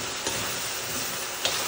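Kare kare simmers and sizzles in a pan over a fire in Rizal, Philippines, giving a loud, steady broadband hiss with a couple of faint pops, close up, with no voices.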